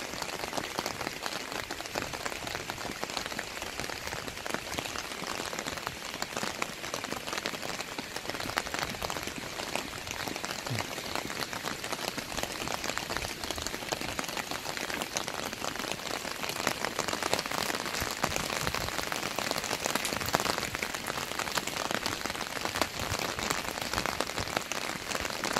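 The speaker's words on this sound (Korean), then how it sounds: "빗소리가 잘 들릴지 모르겠네요" Steady, dense rainfall pattering on hard surfaces, a constant hiss of drops close by that continues without pause and without voices.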